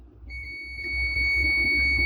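A clamp meter gives a steady, high-pitched continuity beep while a diode is tested. The tone starts just after the opening, holds unbroken to the end and rings clearly over a low hum.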